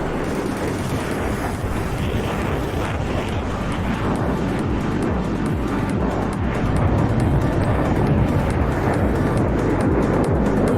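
A MiG-21bis jet in a flight-simulator solo air-show display, passing parallel to the runway toward the crowd, makes a steady, loud, broadband engine roar that swells slightly near the end, with no voices.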